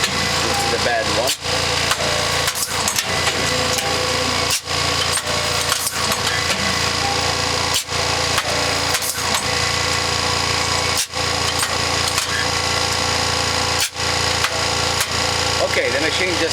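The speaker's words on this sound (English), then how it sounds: "the machine just stopped because we just made 25 cigarettes" An RYO EZ-Fill cigarette making machine runs with a steady, loud mechanical whir and hum, broken by brief regular dips as it cycles; a voice talks faintly beneath the noise.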